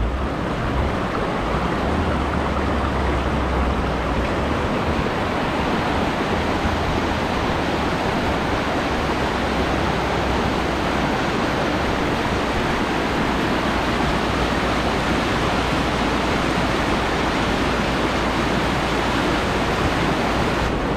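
A stream of water flowing down from a hillside along a rural road, a dense steady rushing that runs unbroken and fairly loud throughout, with no speech.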